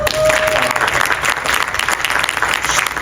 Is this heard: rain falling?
no